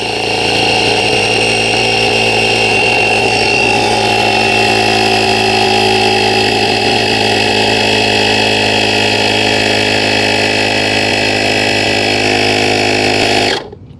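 Joltekon VP10 portable 150 PSI air compressor inflating a fully deflated mountain bike tire through a Presta adapter, a loud, steady, close mechanical buzzing drone that runs unbroken before cutting off abruptly at the end.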